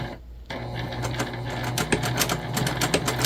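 A sewing machine stitching a beginner-friendly cotton key fob wallet, starting up after a short pause into a close, steady mechanical whir with rapid rhythmic needle clatter that grows slightly louder.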